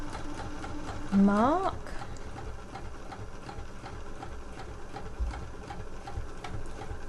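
A sewing machine runs steadily and close, top stitching along a trouser pocket, with a brief spoken word early on over the continuous hum.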